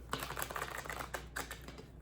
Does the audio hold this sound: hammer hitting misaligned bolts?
no